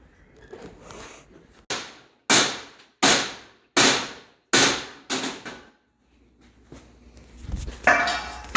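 Five sharp, evenly spaced metallic hammer blows dent a car exhaust pipe for a 1JZ-swapped FRS, each strike ringing briefly, with quieter shop noise before and after.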